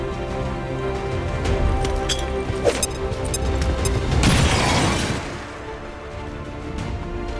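Explosions from bombs dropped in XCOM: War of the Chosen, a dense crashing roar with thuds and debris building to a loud burst around the middle, then settling into a low rumble.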